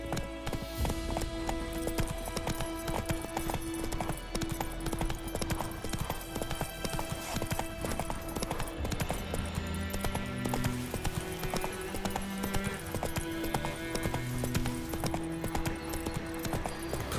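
Hooves clip-clop in a steady galloping rhythm as a horse runs in the video game Witcher 3: Wild Hunt Next Gen, with game music and ambience playing throughout.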